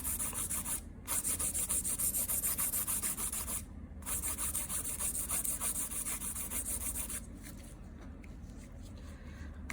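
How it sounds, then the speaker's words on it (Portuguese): A fingernail filed straight across its surface with a nail file, close rhythmic scratching strokes that run continuously, pausing briefly twice before trailing off quieter at the end. "Vou lixar reto."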